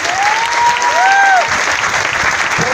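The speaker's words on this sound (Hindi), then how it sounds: "अब तक की सबसे खतरनाक वाली तालियां इनके लिए होनी चाहिए" A seminar audience claps loudly and densely for Star Diamond Club members, close and sustained throughout, with a few high whistles and whoops rising over the applause.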